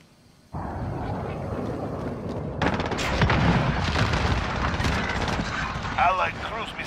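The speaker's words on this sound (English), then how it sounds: "Allied cruise missile away." After a quiet start, a loud low boom bursts in from a cruise missile strike in Call of Duty: Modern Warfare, then a heavier rumbling blast with crackling debris and distant gunfire, while a radio voice speaks over it.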